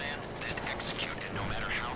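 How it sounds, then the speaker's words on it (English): Gunfire in GTA V Online, rapid shots cracking close together in a dense burst over an engine-like drone, with a person talking at the same time. "Why are you shooting me?"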